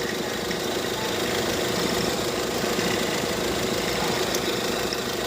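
A Tata Harrier engine with a faulty alternator runs at speed, a steady, loud mechanical drone with a constant whining, rattling undertone that holds without pause throughout.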